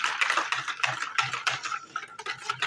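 A whisk or spoon stirs an egg, oil and sugar mixture for katmer pastry in a bowl, with quick rhythmic clinking and scraping strokes close by, running steadily without talk.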